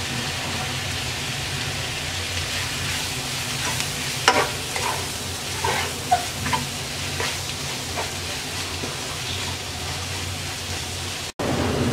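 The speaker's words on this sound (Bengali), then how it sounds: "এবার অনবরত নেড়ে নেড়ে মিডিয়াম আছে শাকটাকে আমরা 7-8 মিনিট রান্না করব।" Radish greens and prawns being stirred and fried in a pan with salt, giving a steady, loud sizzle and a constant spatter, with occasional scraping stirs throughout and no talking.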